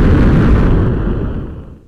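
A missile explosion in the video game Bokurano Daibouken III: one loud, close boom filling the whole clip, its rumbling roar fading away over two seconds.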